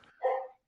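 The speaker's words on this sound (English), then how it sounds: "that's my dog." A single short dog bark, fairly close and loud, heard alone against a quiet background.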